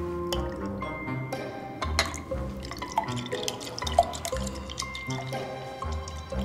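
Sauerkraut juice dripped into a vitamin C test solution, a series of irregular close drips and small splashes plinking into liquid, heard without speech.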